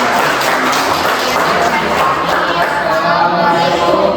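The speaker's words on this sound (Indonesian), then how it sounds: "terima kasih kelompok 2 tepuk tangan" Applause from a classroom of students for group 2, a dense, steady wash of clapping at close range that fills the whole moment, with a hint of murmuring voices mixed in.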